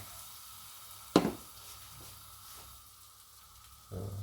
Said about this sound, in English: I'm just melting the butter.